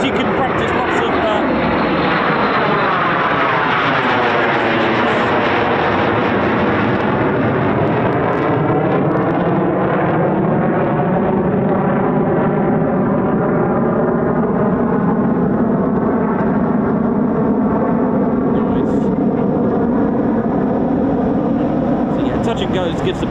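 A Eurofighter Typhoon FGR4 fighter jet doing touch-and-go circuits at an RAF station, a loud sustained roar with shifting engine tones as it sweeps past, with a voice talking over it.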